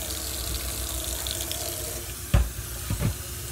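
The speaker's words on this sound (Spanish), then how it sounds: "Le voy a echar tantita agua." Water running from a kitchen tap into a blender jar of fresh tomatoes and salt for tostada salsa, a steady wash of flow with a couple of brief splashes and knocks near the end.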